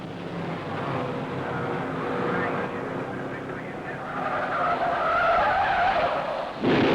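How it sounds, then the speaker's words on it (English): A race car at the 1957 Indy 500 loses control on the southwest turn, its tires skidding and squealing over a roaring engine before striking the wall, loud and sustained with a sharp impact near the end. "Al Keller in number 16 trying to get around number 10, Johnny Thompson, who was having trouble on the southwest turn, lost control and hit the wall"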